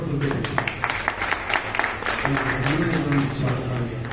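An audience at a stage event claps loudly to welcome an arriving guest, a dense patter of hands running steadily beneath a voice that talks throughout.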